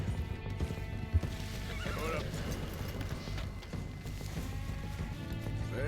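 A Missouri Fox Trotter horse in Red Dead Redemption 2 gives a clear whinny, and hoofbeats clop around it, all at moderate loudness over a low game-world background.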